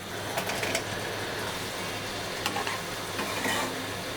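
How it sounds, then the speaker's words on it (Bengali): Spices frying in oil in a pan for a potato and egg curry, stirred repeatedly, giving a dense continuous sizzle with a few faint scraping strokes over a low background hum. "এভাবে বারবার মশলাগুলো নাড়তে থাকবো যাতে মশলাগুলো পুড়ে না যায়"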